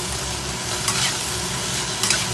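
Steady, close sizzling of okra frying in a pan, with a couple of brief scraping stirs, no voices.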